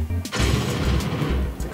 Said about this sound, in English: I'm working on first some of the explosion sounds whenever we die or whenever you kill something